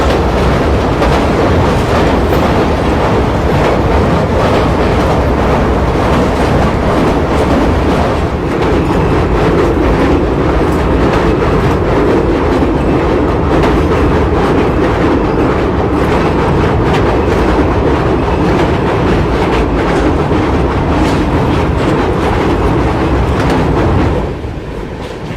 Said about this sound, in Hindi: फिलहाल अपनी ट्रेन पहुंच रही है मुरैना रेलवे स्टेशन